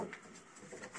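A breeding pigeon coos softly and fairly close, with low rounded calls recurring a few times over a quiet background.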